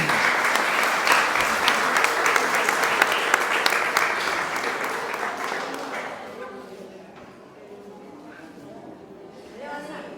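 Church congregation at a Mass clapping for the children, dense sustained applause that gradually thins and fades, with scattered voices talking under it toward the end.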